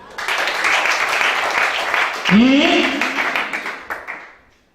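A church congregation at a teaching worship service applauds steadily for several seconds, a single voice crying out briefly midway before the clapping fades away.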